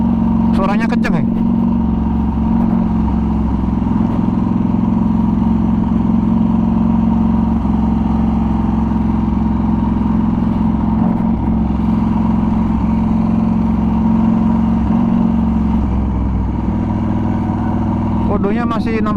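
A Norton Commando 961 SF MK II motorcycle engine idles loudly and steadily throughout, a deep rumbling drone with a couple of brief throttle blips near the start and end.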